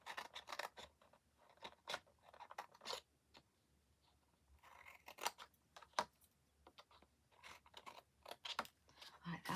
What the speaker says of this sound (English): Cut and miter it.